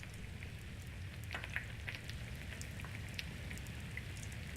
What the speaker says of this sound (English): Sounds like bacon crackling.